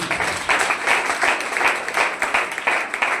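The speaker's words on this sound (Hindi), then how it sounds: "एक बार जोरदार ताली।" A seminar audience in Surat claps loudly and heartily in pulsing waves, the rhythmic bursts of many hands filling the room without a break.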